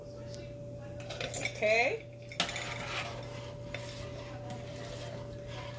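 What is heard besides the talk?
stirring cream into red pepper, corn and shrimp chowder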